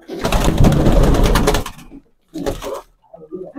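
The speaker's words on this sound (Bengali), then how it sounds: "দেখতে পাচ্ছ গাইস কত সুন্দর কবুতর, রেসার কবুতর" Racing pigeons in a loft, cooing and fluttering loudly up close for nearly two seconds, then a short burst after a pause and softer murmurs at the end.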